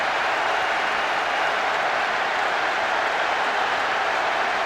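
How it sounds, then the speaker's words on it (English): A football stadium crowd at the 2006 FIFA World Cup, Czech Republic vs Brazil, erupts after a Brazil goal. A dense, steady, loud roar carries on without a break. "That's given the crowd something to shout about now."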